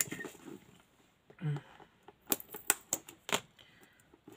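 A few sharp scissor snips and crisp tearing of packing tape, close by, scattered unevenly after some quiet rustling.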